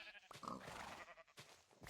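A Minecraft sheep gives a short, nasal bleat, close and clear, followed by a second brief bleat near the end.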